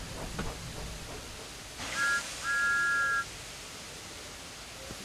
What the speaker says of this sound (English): Thomas likes whistling cheekily at him.